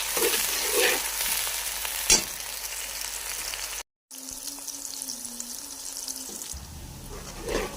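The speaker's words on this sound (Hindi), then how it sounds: "प्याज हम ब्राउन होने का वेट करते हैं।" Onions fry in ghee for an aloo matar pulao, a steady close sizzle with a brief break partway through, then faint sizzling under a low hum and rising crackle near the end.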